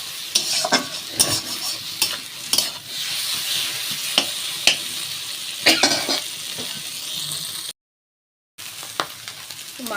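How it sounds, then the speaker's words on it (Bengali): Fish oil and egg hitting hot oil with already fried onion and chilli in a home kitchen pan, a continuous close sizzle punctuated by sharp spatula scrapes and clacks, then a short silence before the frying resumes. "এবার আমি মাছের তেল আর ডিমটা দিয়ে দেবো, দিয়ে এটা সুন্দর করে ভেজে নেব"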